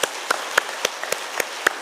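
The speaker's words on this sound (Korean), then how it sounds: "우리 뜨거운 박수로 감사하십시오" A congregation at a church service applauds for church school teachers and staff, a short, steady burst of hand clapping.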